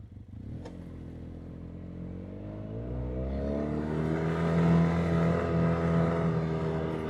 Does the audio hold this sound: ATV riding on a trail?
yes